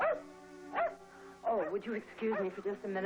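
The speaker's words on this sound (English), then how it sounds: "That's our dog" A pet dog called Aspen barking indoors: several yelping barks in quick succession, moderately close, spread across the clip and partly overlapping a person talking.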